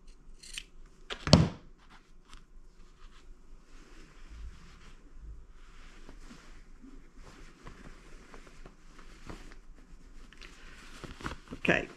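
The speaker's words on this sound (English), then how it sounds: "I'm going to clip my corner right at the fold." Scissors snip the corner of a folded fabric Halloween table runner at the fold: one crisp, close cut stands out in a quiet room, with another faint snip near the end.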